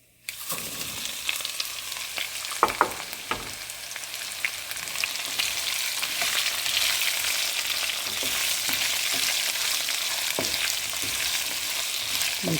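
Onion and curry leaves go into hot oil in a pan, setting off a loud, continuous sizzle close by, with a few scraping clinks of stirring early on.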